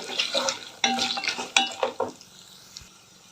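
A spoon stirs turmeric and curry leaves through a frying ajwain-leaf chutney with roasted peanuts in a pan, giving scraping strokes over a steady, close sizzle that fades toward the end.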